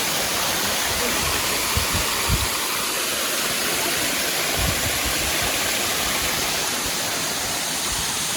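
Chakratirtha Waterfall rushes in a constant, dense roar close by, reached on a trekking trip, steady and unbroken with no speech over it.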